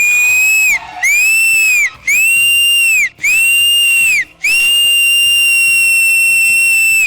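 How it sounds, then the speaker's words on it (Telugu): Loud, shrill whistle blasts on a televised dance show stage, five long piercing blows in a row separated by short gaps, very close and with no talk over them. "విజిల్ కొట్టాల్సిందే"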